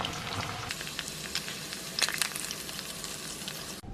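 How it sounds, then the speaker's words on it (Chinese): Scallion, ginger and garlic fry in hot oil with a steady, close crackling sizzle, punctuated by a few sharper spits and stirring sounds, before cutting off abruptly near the end. "炸一些葱姜蒜，这个油泼辣椒用"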